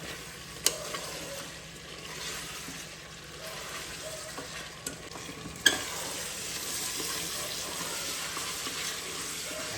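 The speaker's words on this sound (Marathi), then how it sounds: "चांगलं परतून घ्यायचं मसाल्यामध्ये" Cauliflower rice sautés in masala with a steady low sizzle and a few clicks as it is stirred, fairly quiet and close, with no talk.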